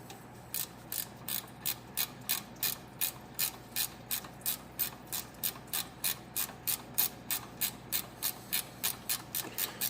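A ratchet clicks in a steady rapid rhythm, about two to three clicks per second, as it loosens the starter bolt on an old abandoned tractor, close and alone with no talk.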